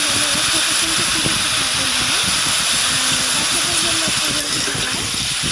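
Vegetables frying in a pan for a simple home recipe, giving a loud, steady, close sizzling hiss that runs throughout, with faint tonal sounds underneath.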